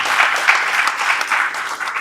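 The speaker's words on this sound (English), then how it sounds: "a huge round of applause for all these wonderful business organizations" An audience at the TNPL Season 2 press meet and trophy reveal breaks into steady, dense applause that holds an even level for two seconds, with no voices on top.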